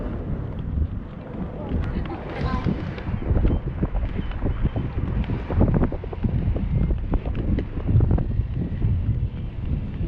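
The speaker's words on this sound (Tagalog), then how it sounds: "Ang lamig ng simoy ng hangin." Steady wind buffets the microphone with a constant low roar, broken by scattered knocks and rustles throughout.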